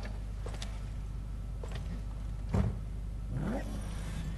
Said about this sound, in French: Je laisse tourner le moteur.